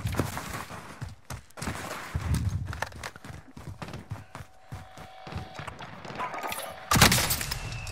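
Gunfire crackles in a shooter video game, with scattered sharp cracks and shots in quick bursts mixed with running footsteps and a louder shot near the end, heard under faint player talk.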